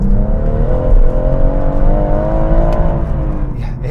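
A BMW M car with a limited-slip differential accelerates hard on tarmac, the engine note rising and holding a loud, close, strained roar with a whirring drivetrain tone underneath, sustained throughout.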